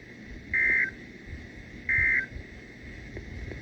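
Two loud, steady electronic alert tones from a NOAA weather radio during a severe weather warning, each lasting about a third of a second, evenly spaced over faint background hiss.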